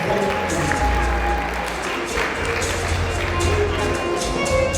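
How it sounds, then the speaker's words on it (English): Audience applause at a celebration dinner, a dense and steady round of clapping that carries on without a break. "A big round of applause, a big round of applause."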